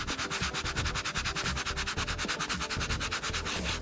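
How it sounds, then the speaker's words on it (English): Steady back-and-forth rasping of 220 grit sandpaper on an old wooden dresser, quick regular strokes filling the whole clip, close and fairly loud with no voices. "use a 220 grit sandpaper, and I'm going to try to smooth out those imperfections"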